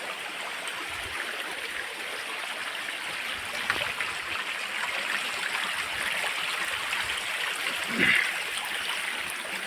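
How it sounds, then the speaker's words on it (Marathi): A river stream in the Konkan mountains flows in a steady, continuous rush of broadband water noise. It sounds close and even throughout, with no voices. "ही बघू शकतो नदी आहे."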